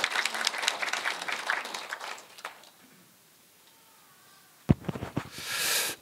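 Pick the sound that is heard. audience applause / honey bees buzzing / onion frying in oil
audience applause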